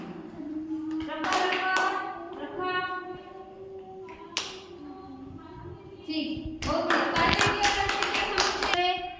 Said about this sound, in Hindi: ताली दे दियो